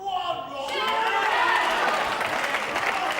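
Spectators at a 2002 World Pool Championship group match break into steady applause after a safety shot tucked behind the 3 ball; clapping swells quickly and holds loud and dense, with no one talking.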